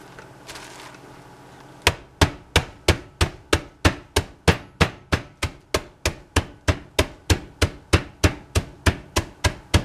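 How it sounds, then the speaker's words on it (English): Steady, evenly spaced hammer blows, about three per second, striking graham crackers on a hard surface close by after a brief rustle. "I'm gonna try to hammer the graham crackers and see if that works"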